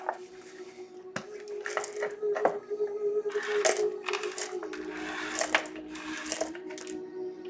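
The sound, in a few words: dice being rolled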